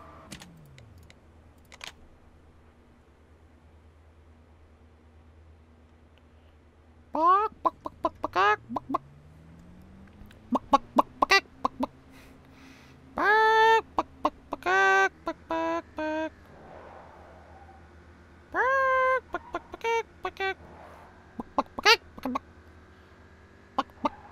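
Chickens clucking in the video game Rules of Survival: scattered bursts of sharp, rapid clucks and squawks that come and go across a quiet, faintly humming background, with a few isolated clicks in between.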